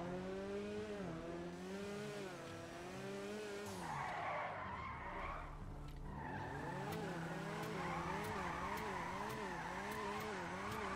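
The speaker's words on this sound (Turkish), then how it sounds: "Manyak kaydırıyor, gördünüz mü? Mükemmel kaydırıyor." Drifting a Cheburek, a Lada-style car in GTA 5: tires skid and squeal loudly without a break, with engine whine rising and falling in wavering tones as the car slides.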